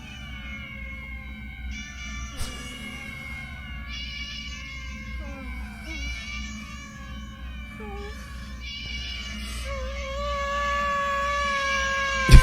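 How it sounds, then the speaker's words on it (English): A cat in the video game The Good Life meows repeatedly in drawn-out, wavering cries over a steady low game-music hum, with a sharp click at the end. "Oh, look at the little pretty cat."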